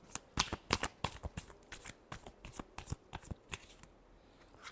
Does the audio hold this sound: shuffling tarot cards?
yes